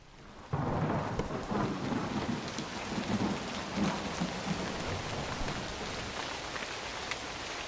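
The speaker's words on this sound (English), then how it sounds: "Here comes the storm." A thunderstorm breaks over a Legend of Zelda village, with heavy rain pouring steadily and low rumbling thunder rolling through after a quiet opening moment, filling the scene loudly with no voices.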